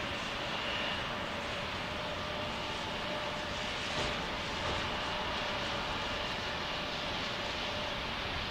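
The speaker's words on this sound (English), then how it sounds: "Coming out of the clouds is the Alpine Air on the old Beechcraft." An old Alpine Air Beechcraft airplane flies near an airport, its engine a steady, broad, moderately loud drone that holds throughout without talk.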